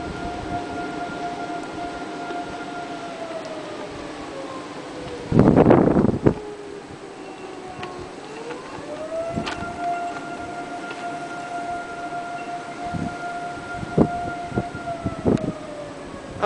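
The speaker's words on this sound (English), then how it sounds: "Oh, a siren, like anybody's going to be able to get anywhere." A civil defense siren wails during a snowy blizzard, rising and falling in long sustained tones over constant wind noise, with a brief gust of rumbling buffeting the microphone midway.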